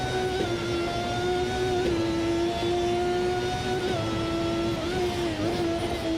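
A Formula 1 car engine in the Automobilista 2 racing game, on the 1990 Montreal circuit, drones with a steady high whine and rising and falling pitch that echoes through a tunnel, loud and continuous with no talk.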